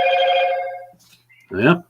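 A telephone rings once in a long, loud tone, then a brief pause before a voice starts speaking at the end.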